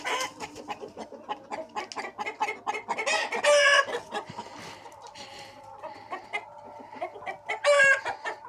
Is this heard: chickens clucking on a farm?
yes